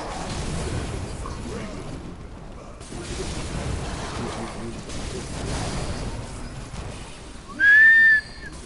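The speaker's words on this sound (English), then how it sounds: "Rape whistle" A short rising whistle tone sounds near the end of a Bloodborne game scene, loud and clear above low ambient game noise and rumbles.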